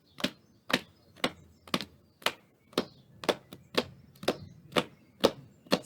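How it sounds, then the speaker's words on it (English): Hands pat the knees in a steady body-percussion rhythm, about a dozen crisp, evenly spaced slaps close by with no voices. "Pat knees."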